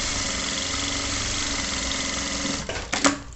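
A sewing machine running a short safety seam along the sides of fabric for a hanger organizer, a steady close mechanical whir that stops near the end with a few clunks.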